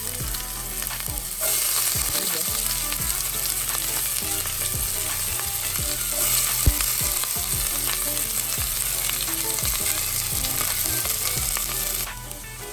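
Onions and tomatoes fry in a pan with ginger for salmon sinigang, giving a loud, close, continuous sizzle broken by repeated stirring knocks and scrapes of a utensil.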